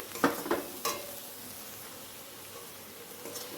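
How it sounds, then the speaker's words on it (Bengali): Spices sautéing in a pan over a low gas flame, with a few sharp stirring scrapes at the start and then a soft, steady sizzle, close and fairly quiet, with no talking. "এবার আমি মশলাগুলোকে কষিয়ে নেবো।"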